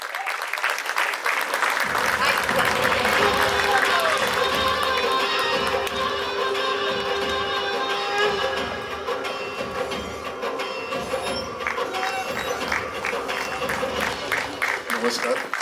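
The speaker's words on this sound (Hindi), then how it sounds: "जोरदार ताली से स्वागत कीजिए" A large audience applauds loudly and continuously to welcome actor Nana Patekar at a film trailer launch event, with an amplified voice speaking over the clapping.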